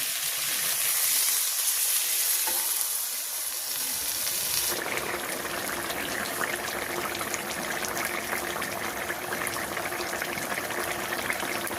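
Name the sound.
fish curry sizzling in a pan as water is added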